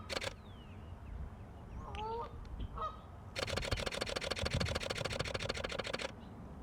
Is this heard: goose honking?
yes